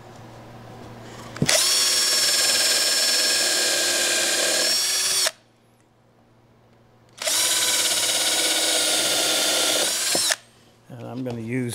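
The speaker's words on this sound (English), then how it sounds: "I want to counterbore first so that none of the thread from the screw" A power drill counterbores holes in hard maple for number 6 screws in a shopmade saw vise, running in two loud sustained bursts of several seconds each with a short pause between and a brief voice at the end.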